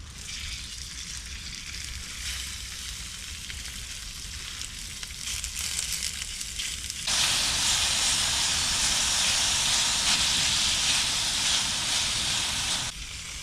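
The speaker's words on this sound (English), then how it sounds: "we're going to do a pork stir fry" Chopped pork sizzling in hot oil in a pan at a riverside camp, a steady close hiss that swells suddenly into a louder, brighter crackling sizzle partway through, with no voices.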